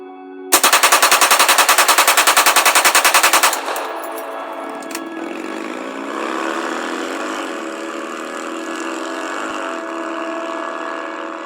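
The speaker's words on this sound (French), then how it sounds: "deux hommes cagoulés armés d'un 11-43 et d'un pistolet mitrailleur 9 mm pressent la détente" A submachine gun fires one loud, rapid burst lasting about three seconds. A steady engine idles on afterward.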